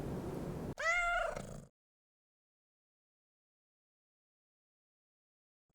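A cat at an animal adoption shelter gives one clear, drawn-out meow after a brief stretch of rustling background noise, followed by silence.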